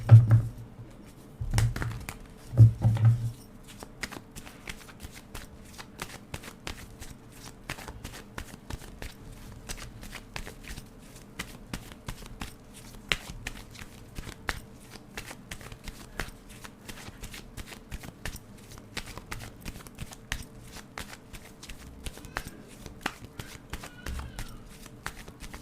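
Tarot cards are shuffled through a collective reading, producing a long, steady stream of soft close riffling and patting card sounds, with faint talk early on.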